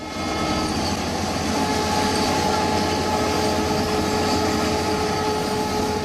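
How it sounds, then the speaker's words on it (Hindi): Two trains rumble loudly past on the railway track, a heavy continuous roar of wheels and cars that swells and stays strong throughout. "आपको ये 2 ट्रेनें जाती हुई नजर आ रही हैं"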